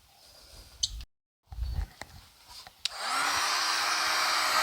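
A heat gun on high heats a car's body lip at the wheel arch before it is pulled, switching on after a few soft handling clicks and then blowing as a steady, close, loud airy roar.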